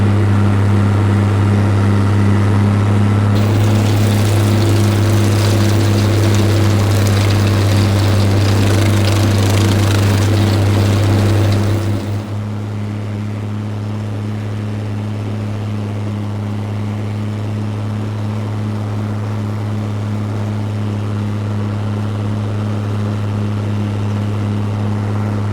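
A lawn mower engine drones steadily while cutting short grass, loud and close with a strong low hum; about halfway through the load eases and the engine settles into a lighter, quieter run that continues to the end.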